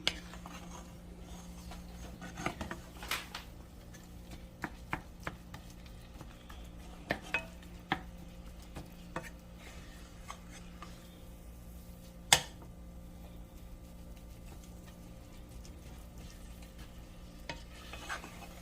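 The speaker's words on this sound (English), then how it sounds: "I'm going back to doing my meat. I think it's ready to be stirred up a little bit." Ground meat for tacos is stirred in a pan. A soft, quiet sizzle runs under scattered clinks and scrapes of the utensil against the pan, with one sharper knock partway through.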